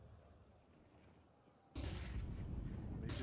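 A grenade bursts with a loud, sudden boom in a Counter-Strike match, cutting in partway through and leaving a sustained blast roar, with faint quieter game ambience before it.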